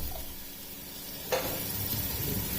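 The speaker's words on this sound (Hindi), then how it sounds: "लहसुन अदरक और हरी मिर्च को मैंने इसमें 2 मिनट तक फ्राई कर लिया है।" Garlic-ginger paste and chopped green chili sizzling in hot oil in a pan for a black chickpea curry, a steady close frying hiss with one brief louder crackle partway through.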